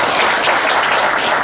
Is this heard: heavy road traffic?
no